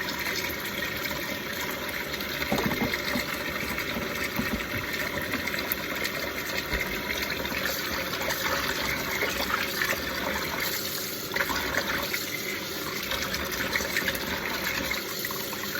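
Lukewarm water is poured into a container for blocking a crochet wrap, making a continuous splashing, gushing sound that runs steadily at close range without pause.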